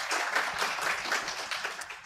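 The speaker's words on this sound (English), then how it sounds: "A round of applause for them, please." Audience clapping at a fintech conference, a brief, fairly dense round of applause from the crowd that fades slightly toward the end.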